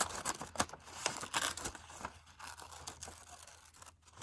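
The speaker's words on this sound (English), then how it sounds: "you're going to take your scissors and you're going to cut these like loops here." Scissors snipping loops into a book page, a run of crisp, close cuts and papery rustles coming in quick irregular bursts, then slowing toward the end, with no talking.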